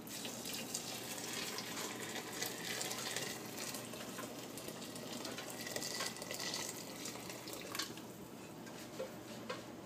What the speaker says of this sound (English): we're going to take the beef stock that we have boiling and we're going to pour it into the pot with the onions